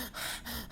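A voice imitates heavy panting after running, giving one short breathless gasp that swells and fades, loud and close, with no other sound around it.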